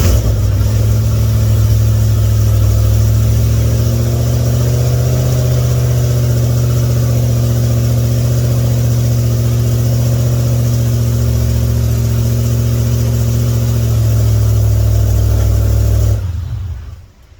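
A 2014 GT500 with a 12:1 compression engine starts and settles into a loud, steady, close-up rumble for about sixteen seconds, then cuts off abruptly.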